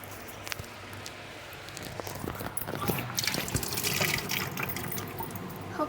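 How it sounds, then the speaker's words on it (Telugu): Water poured into a bowl of potato stuffing, a wet trickling and splashing with a few drips and soft squishes, close and moderately loud, with no voices. "మనం ఏదైతే ఆలు స్టఫ్ అయితే వేసుకున్నామో దాంట్లో వాటర్ వేసుకోవాలి."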